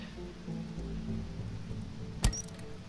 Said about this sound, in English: Yes, rain. Perfect.